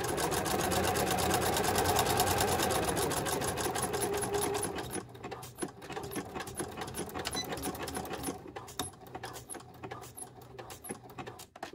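A domestic sewing machine stitches a lining seam, a fast steady mechanical whir for about five seconds, then fainter intermittent clicks and short bursts as it slows and halts near a marked dot.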